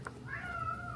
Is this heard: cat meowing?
yes